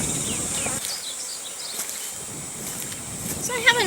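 Honey bee foragers buzzing as they fly off from a hive frame sample taken for a varroa mite alcohol wash, a faint, thin drone of wings, close and quiet.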